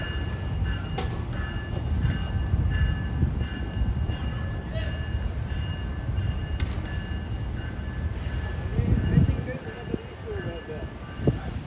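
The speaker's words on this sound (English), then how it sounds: "Yeah, that's the train." A train rumbles past with a continuous low roar and some faint squeals and clanks, loud and steady throughout.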